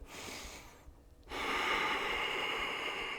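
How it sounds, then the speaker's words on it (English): Deep, slow breathing during a held yoga pose in a guided class: a soft intake, a brief pause, then a long, louder, airy exhale, close and unaccompanied. "Breathing deeply."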